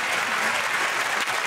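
Steady studio audience applause fills the whole moment on a TV game show, a dense, even wash of clapping with no pauses.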